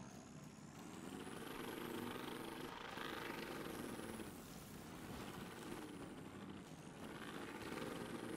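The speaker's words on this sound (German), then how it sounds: "Der Helikopter fliegt zurück." A continuous, loud engine roar with rotor-like whooshing, steady throughout with slight swells, like a helicopter flying nearby, in the video game Tom Clancy's The Division 2.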